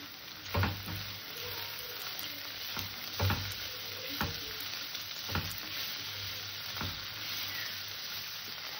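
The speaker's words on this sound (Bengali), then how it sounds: "এটাকে আমি সুন্দর করে ভেজে নেব। গাজর আর আলুটাকে, একটু লঙ্কা কুচি, ওটা মটরশুঁটি," Carrots, potatoes, peas and a little chopped chilli fry in a pan with a steady, close sizzle, broken every second or so by sharp scrapes and knocks of a stirring utensil.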